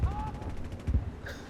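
Gunfire in a Medal of Honor / Battlefield: Bad Company 2 shooter, a couple of quick low bursts of shots over a faint background, with no voices.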